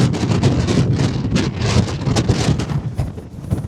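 Strong wind buffets the microphone outdoors on an Australian road trip, a dense continuous rumbling roar with gusty surges and no talk.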